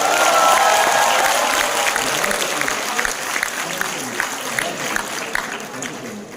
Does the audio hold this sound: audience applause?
yes